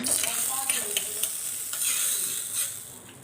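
Hot fried tempering of garlic and curry leaves hits a pot of spinach dal with a steady, close sizzle. Stirring scrapes and clinks sound over the hiss throughout, and no one speaks.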